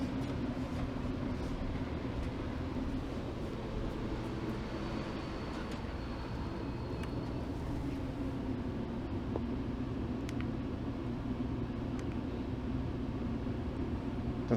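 Inside a GO commuter train slowing into Bloor GO station in Toronto, a steady low rumble dominates, with a faint high squeal and occasional clicks and brake hiss over the drone.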